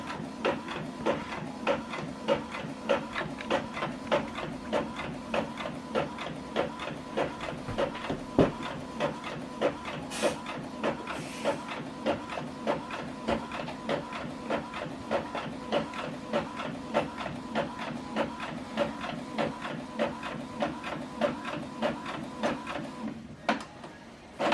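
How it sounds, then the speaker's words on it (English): An Epson WF-2830 inkjet printer runs a double-sided print job, a steady mechanical whir with rhythmic repeating clicks and feed pulses throughout, close and continuous. "So this document is going to print out one page double-sided."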